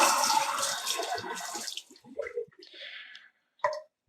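Water rinsing a dirty graphics card: a loud, steady splashing rush for nearly two seconds, then scattered drips and wet handling noises, with a brief final splash near the end.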